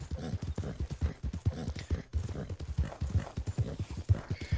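Steady clip-clop of a Dutch Warmblood's hooves in the Red Dead Redemption video game, a close, even four-beat gait that repeats without a break.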